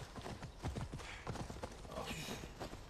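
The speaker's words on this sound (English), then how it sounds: "this is the horse from fucking, Metal Gear Solid" Horse hooves clip-clop in Assassin's Creed Odyssey, a run of fairly quick, moderately close strikes over a dense game soundscape, fading into a softer wash toward the end.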